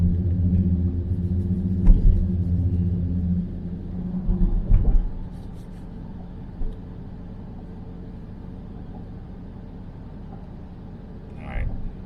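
A Jeep Trackhawk with an automatic transmission, driven while awaiting a transfer case repair, gives a low steady cabin rumble that eases off partway through, with a few knocks and bumps.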